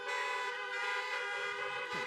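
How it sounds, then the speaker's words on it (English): Car horn honking at a drive-through graduation, a steady sustained toot sounding faint and distant. "Let's hear some honks from Mark."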